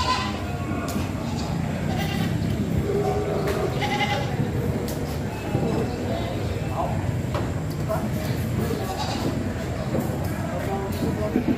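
Goats bleat repeatedly at a busy livestock market in Padre Garcia, Batangas, with calls rising over a constant crowd murmur and people talking nearby.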